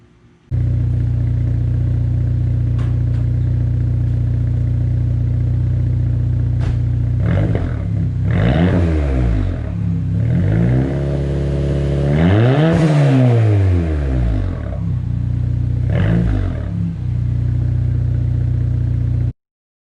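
A 2009 Saab 9-3 2.0T on its stock exhaust idles in a loud steady rumble, then gets blipped several times, with the sharpest rev climbing and falling around the middle before settling back to idle. No one talks.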